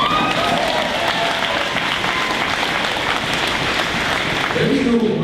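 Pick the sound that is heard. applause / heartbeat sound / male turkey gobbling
applause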